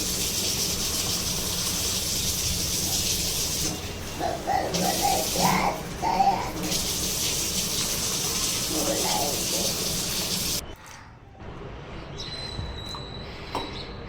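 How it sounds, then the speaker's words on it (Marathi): Sabudana (sago pearls) washed in water in a kitchen makes a continuous swishing, rubbing hiss with a few brief louder surges, then a quieter stretch near the end. "आता मी दोन वेळेस पाणी छान पाण्याने धुवून घेत आहे"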